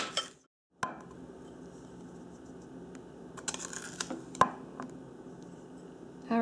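Candy mint sugar scrub is spooned from one bowl into a separate bowl, giving scattered light scrapes and a few sharp clinks of utensil on bowl, close and fairly quiet, with no talking.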